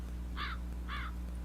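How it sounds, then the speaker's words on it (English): A crow caws twice in quick succession, harsh and fairly close, over a steady low background hum with no voices. "It's a crow."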